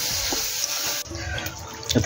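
Water is poured while cooking in a village kitchen during rain, making a continuous hissing splash for about a second, then a quieter trickle with faint clinks and clatter.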